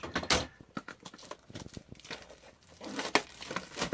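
Target Beauty Box Naturals packaging being opened, with close, crisp crinkling and tearing of cardboard and plastic in irregular bursts, no talking.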